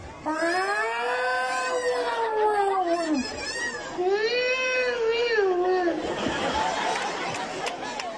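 At an outdoor Christmas lights inauguration event, a voice imitates a cat, drawing out wavering, rising-and-falling meows in two long calls, close and fairly loud, ending in a breathy, noisy trail.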